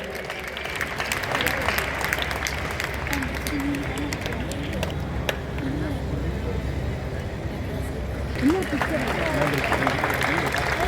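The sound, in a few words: audience applause in indoor stadium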